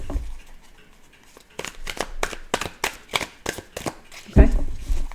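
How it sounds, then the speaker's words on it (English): Tarot cards shuffled by hand in a rapid run of crisp riffling bursts, close and fairly loud, ending with a sharper slap-like knock. "I'm just going to shuffle a bit and then I'm going to pull cards."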